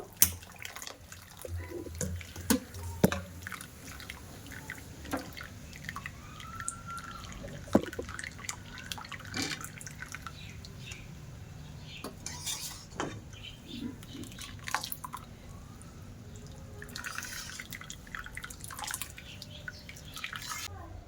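Half-boiled potatoes lifted out of their cooking water with a slotted ladle, giving scattered drips, splashes and light clinks of metal against the pot, close and intermittent.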